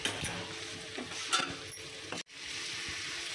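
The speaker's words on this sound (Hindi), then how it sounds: "तो बस इसके बाद मैं सब्जी को चला दूँगी" Vegetable curry with chilli being stirred in a pan, a faint continuous sizzle with soft scraping and a few light clinks, close by and steady, broken by one brief dropout, with no one talking.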